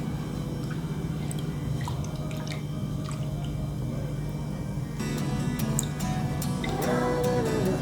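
A pot of liquid boils on the stove while being stirred, giving a steady bubbling, sloshing wash with scattered small drips and clicks that grows slightly busier near the end, with no voices.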